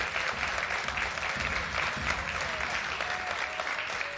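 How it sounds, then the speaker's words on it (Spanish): Steady, dense applause from a live television studio audience, clapping evenly throughout without pause. "Así que este aplauso para ustedes"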